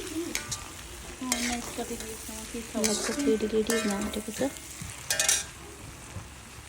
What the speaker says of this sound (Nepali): मैले मजाले प्रपरी भुट्नुपर्छ